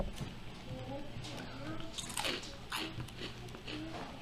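A fish-smelling Asian potato chip snack being bitten and chewed close to the mouth, with several crisp crunches spread over a few seconds, fairly quiet, while a person talks between bites.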